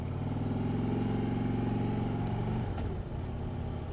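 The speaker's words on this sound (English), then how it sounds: "And it does have a lovely growl on the engine." Harley-Davidson Road Glide motorcycle engine with a low, steady growl, heard close and continuous while riding, the pitch shifting slightly near the end, no voices over it.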